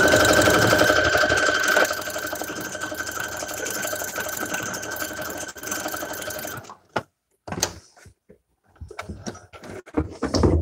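A Brother sewing machine stitching on cloth runs in a loud, steady mechanical whir for about seven seconds, then stops and leaves a few scattered clicks and knocks.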